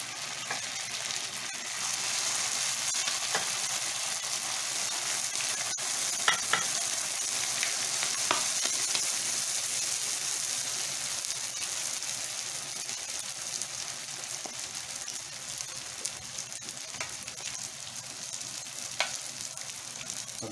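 Lumpiang shanghai spring rolls, filled with parboiled ground meat, fry in hot oil with a steady, dense sizzle and occasional pops and crackles, close and continuous with no talking.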